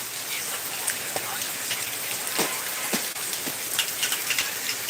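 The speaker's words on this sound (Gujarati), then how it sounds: "કલાક થયાનો કન્ટિન્યુ એવો વરસાદ વરસે છે" Heavy continuous rain falls in a steady close wash, with scattered sharper drops tapping on a surface throughout.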